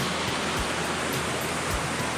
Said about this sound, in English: Pretty little stream.